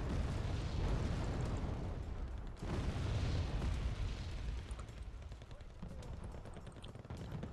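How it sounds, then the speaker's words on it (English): Heavy artillery barrages in the real-time strategy game Wargame Red Dragon, with dense overlapping booms and blasts rolling continuously at moderate loudness, briefly dipping before resuming. "Now, this ridiculous amount of artillery. Look at all the damages I'm dealing."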